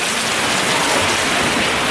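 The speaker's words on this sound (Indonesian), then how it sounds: "jadi seru banget nih hujannya nih deras banget nih guys" Heavy downpour of rain falls steadily, a dense, loud, broadband hiss and patter with no letup and no voices.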